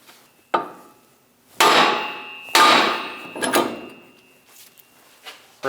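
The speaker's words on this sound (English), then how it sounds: "We're going to hit on that outside on the back side and pop that out." Hammer blows on the steering knuckle of a 2003-2025 Chevrolet Express, knocking the lower ball joint loose: four sharp metallic strikes at uneven intervals, each ringing briefly, close and loud, with a faint softer tap near the end.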